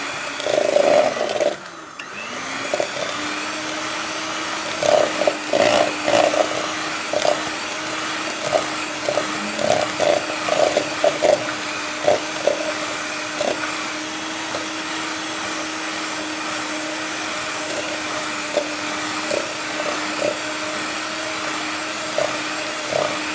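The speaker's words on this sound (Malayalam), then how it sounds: "ഇതിപ്പോൾ ബീറ്റർ ഉള്ളതുകൊണ്ട് ഞാൻ ചെയ്യുന്നുണ്ട്." An electric hand beater whirs steadily through cookie batter in a bowl, a constant motor hum broken by repeated clicking and knocking as the beaters strike the sides, running alone for the whole stretch.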